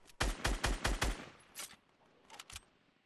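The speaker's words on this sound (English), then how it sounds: "I shoot a grenade launcher" A grenade launcher firing in Fortnite: five loud, evenly spaced shots in quick succession, then a few scattered fainter reports.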